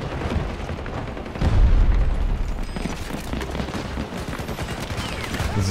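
A grenade explosion in the shooter Battlefield 2042 lands as a deep, loud boom about a third of the way in, within a dense stretch of continuous gunfire and battle noise.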